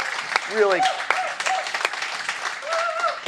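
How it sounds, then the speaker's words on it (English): Audience applause at a cannabis industry summit, brisk clapping from a room of attendees, fairly close and steady, with a voice speaking over it. "I think everybody should give Deborah and Cynthia a round of applause"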